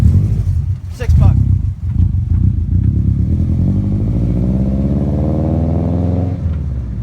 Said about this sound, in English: so going for a ride in a rear-wheel drive Subaru